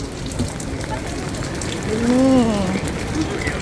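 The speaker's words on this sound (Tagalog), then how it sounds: "Lakas ng ulan ang bad weather ngayon dito sa Sydney." Steady, heavy rain hisses throughout in Sydney, with a brief rising and falling tonal sweep in the middle.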